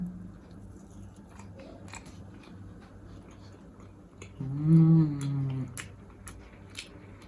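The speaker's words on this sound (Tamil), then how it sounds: "இதை சும்மா பிச்சு சாப்பிட்டு பார்க்கலாம்." Stuffed parotta being torn apart and chewed: a soft rip followed by close, moist chewing and crunching that swells in the middle and then fades, with no speech.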